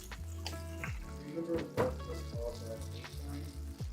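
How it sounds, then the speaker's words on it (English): Mushrooms sautéing in a pan with an olive and avocado oil mix, a steady close sizzle with clinks and stirring scrapes, continuous throughout. "I'm just gonna add some more oil to the pan with the mushrooms"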